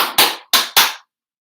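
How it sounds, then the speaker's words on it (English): Sharp, close hand claps ring out in a primary school music class rhythm game, four crisp strikes in a quick uneven pattern, then silence. "Just copy that when I clap."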